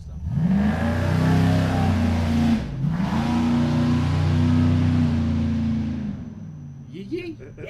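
A 500-horsepower LS Fury V8 car engine revs hard and loud close by, a sustained roar that dips briefly in the middle before surging again, then settling toward idle at the end.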